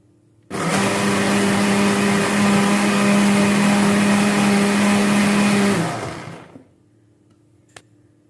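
A blender grinds fried onion and garlic into a paste, a loud steady whirring motor running for about five seconds before spinning down to silence.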